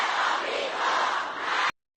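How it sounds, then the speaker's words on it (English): A crowd at a funeral chanting slogans in unison, a dense, loud roar of many voices sustained for under two seconds before cutting off abruptly. "here they are leading the crowd in chants of death to America"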